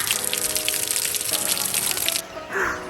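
Rainwater pours off a barn roof on a rainy morning, a continuous splashing gush with pattering drips and a faint rattle, fairly close and steady before briefly dropping away near the end.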